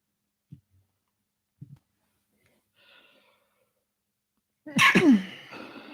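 A single loud, close sneeze bursts out alone after a quiet stretch broken by a few faint sounds, with a brief trailing tail, heard during a live basketball post-game chat stream.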